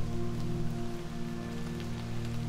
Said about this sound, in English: It's raining in the city again.